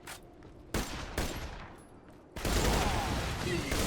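Gunfire in the video game Borderlands The Pre-Sequel, with loud bursts of rapid shots starting abruptly, a short pause, then a sustained dense barrage to the end.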